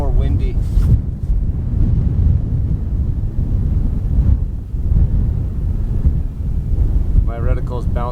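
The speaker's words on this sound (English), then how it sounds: "It feels a little more windy." Strong, steady wind buffeting the microphone at a long-range shooting session, with low rumbling gusts throughout and brief faint voices near the start and end.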